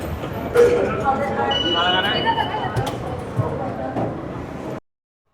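A Paris metro train rumbles steadily, with rolling wheel noise and faint squeals, and voices talk over it before the sound cuts off abruptly.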